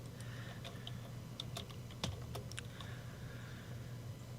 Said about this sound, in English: the gain is picking up the keyboard